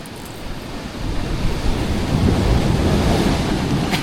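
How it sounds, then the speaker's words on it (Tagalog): Strong ocean waves crash and surge onto the shore in a steady, loud roar that builds after the first second, with wind buffeting the microphone throughout and no speech. "Lakas ng alon."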